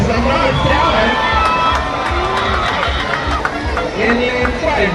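A school crowd at an athletics house competition cheers and shouts for a runner, a constant loud babble of children's voices and whoops with an announcer-like voice faintly mixed in.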